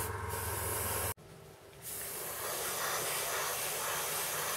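A Harder & Steenbeck Ultra airbrush sprays air in a steady, loud hiss that stops abruptly for an instant, then resumes more fully and continues evenly to the end, with no voices.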